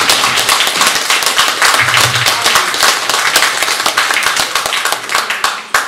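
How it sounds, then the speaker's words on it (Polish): A crowd at a fishing sports prize ceremony claps for a birthday boy, brisk rhythmic applause with sharp individual hand claps standing out, loud and close. "Brawa dla niego!"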